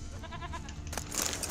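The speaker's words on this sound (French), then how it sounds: "Fait quoi cette chèvre? Chèvre à la noix." A goat in The Witcher III bleats amid quiet game ambience, a wavering cry near the start followed by a brighter, louder burst of noise toward the end.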